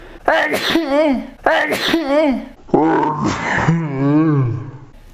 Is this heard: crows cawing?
no